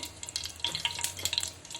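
Mustard seeds and lentils crackle as they temper in hot oil in a cooking pan, a close, busy run of quick spluttering pops over a soft sizzle.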